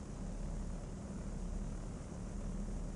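A Piper Seneca twin's engines hold a steady, loud propeller drone during a run-up in a flight simulator, with a constant rumble and no breaks or voices.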